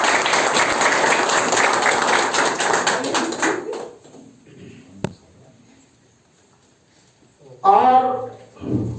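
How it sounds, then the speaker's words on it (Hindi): A crowd at a TV channel's first-anniversary event applauds to welcome a guest onstage. The dense, steady clapping lasts about four seconds, then fades into near quiet, and a voice speaks near the end. "हम बुलाना चाहेंगे एक बार जोरदार तालियों के साथ श्रीमती रोशनी खान को।"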